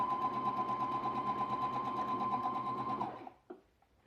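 A sewing machine runs steadily, stitching a long straight seam on a pillowcase, a close, even whir with a fast stitch rhythm for about three seconds before stopping, followed by a couple of small clicks.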